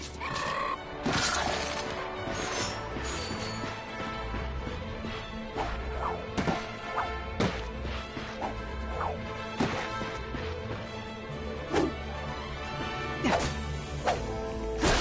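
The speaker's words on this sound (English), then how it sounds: "Look at him smashing crates." Wooden crates are smashed in a Ratchet and Clank game, each one a sharp crack or splintering thwack, struck again and again in an irregular run over a busy game soundtrack.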